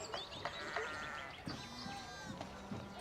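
A few short sheep bleats from the video game Pentiment, several quick wavering cries in close succession at moderate volume over a soft background bed.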